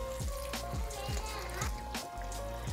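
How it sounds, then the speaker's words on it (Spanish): Water runs from a tap into a container of ice, a steady close pour with gurgling, sweeping tones as the level rises, plus a few soft knocks. "Le echas hielo en un contenedor y lo llenas un poquito más de la mitad con agua."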